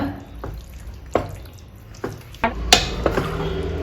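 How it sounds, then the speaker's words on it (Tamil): Water is poured into a pot of chicken kulambu during home cooking, with several sharp splashing and clinking bursts of water and utensil contact close by, no talking. "தேவையான அளவு தண்ணி ஊற்றிக்குங்க"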